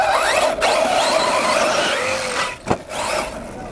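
A Corally Sketer RC car fitted with a 16-tooth pinion runs close by with a steady electric motor whine, briefly dropping off before picking back up.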